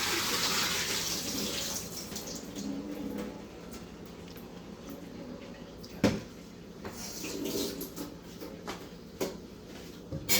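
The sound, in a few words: water being poured off cooked milkfish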